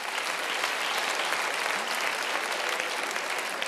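Applause from a comedy club audience at a stand-up show, dense continuous clapping at an even level filling the room throughout.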